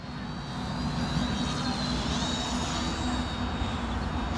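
A Volantex Trainstar 500mm RC plane flying at about quarter throttle, a continuous buzzing motor-and-propeller whine that shifts slightly in pitch as it passes, steady and moderately close with a faint breezy background.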